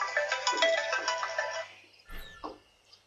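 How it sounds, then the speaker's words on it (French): Phone ringtone from a smartphone going off during an Assassin's Creed IV Black Flag gameplay session, a steady melodic ringing for about two seconds before cutting off, followed by a couple of brief clicks and fainter game sounds. "Excusez-moi pour le son du téléphone"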